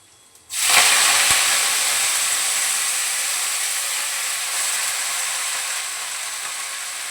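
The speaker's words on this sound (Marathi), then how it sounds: "पण पहिली भाजी परतवते जरा." Vegetables hit a hot pan with reddened garlic and burst into a loud, sudden hiss that settles into a steady sizzle and slowly fades over several seconds.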